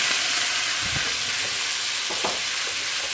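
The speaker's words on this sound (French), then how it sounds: "On va déglacer." A veal pan being deglazed for piccata sizzles and hisses loudly and steadily, with a few soft scraping bumps in the sizzle and no talking.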